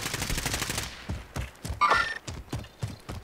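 Sniper gunfire in a video game, a series of sharp, fairly faint shots spaced about half a second apart, with no talk over them.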